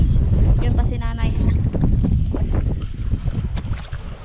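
Strong wind batters the microphone on an island shore, a loud continuous rumbling buffet with gusts, while people talk over it close by.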